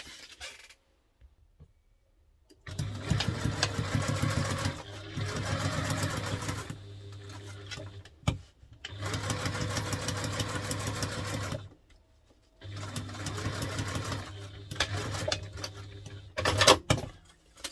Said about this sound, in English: I'm going to take that to the machine and we're going to stitch all the way around that.